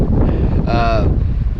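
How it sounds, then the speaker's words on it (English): Heavy wind on a beach along the Brazos River buffets the microphone with a constant low rumble, briefly joined by a thin whistling tone in the middle. "excuse the wind. It is quite windy out here,"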